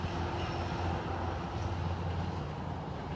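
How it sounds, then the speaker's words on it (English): A Metro-North commuter train bound for Waterbury rolls past a park at a moderate distance, giving a steady, faint rumble and hiss of wheels on track with no voices. "And that's the train to Waterbury."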